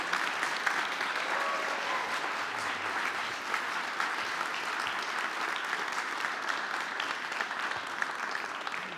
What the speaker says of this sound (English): we all owe Anne a huge round of applause